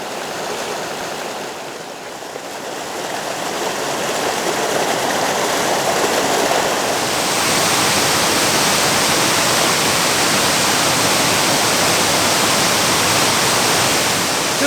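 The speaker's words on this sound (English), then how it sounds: "Just a gorgeous waterfall." Steady roar of a mountain waterfall in Colorado, loud and continuous broadband rushing water that builds slightly after the first few seconds, with no voices.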